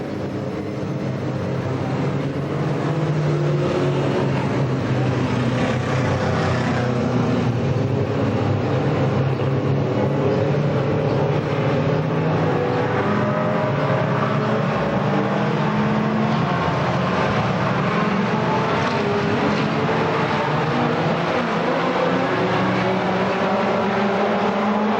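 Stock cars race around Winchester Speedway in 1993, engines roaring continuously and loudly as the pack picks up the throttle through the turns, a dense, sustained rumble with no talk.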